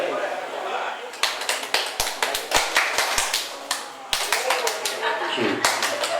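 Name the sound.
audience applause, clapping hands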